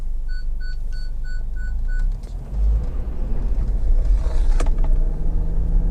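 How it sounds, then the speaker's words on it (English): A truck passes the other way on a quiet road, heard from inside a moving car: a steady low engine-and-road rumble swells into a brief broadband whoosh as it goes by, with a few faint electronic beeps early on. "So there's a truck coming the other way"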